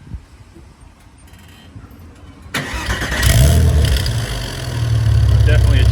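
A Porsche Boxster fitted with dB Killer muffler inserts on an eBay exhaust cranks and fires up after quiet background noise, settling into a loud, close idle with a brief rise in engine note.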